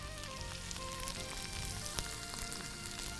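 Vegetables sautéing in a pan, a faint, even sizzle with light crackles and one small clink, heard alone without speech.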